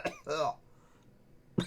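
A human voice mimics a cough and a sputter, two quick rough bursts followed by a pause, then another short cough-like burst, close and dry.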